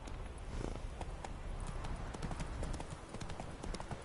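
Roach, the horse in The Witcher 3, trots with quick, regular clip-clop hoofbeats at moderate volume, a steady rhythmic patter lasting throughout with faint background ambience.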